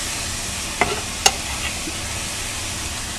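Chopped pickled cherry peppers hit a hot pan with a continuous loud sizzle, marked by two quick clinks as they are tipped in, then steady frying hiss alone.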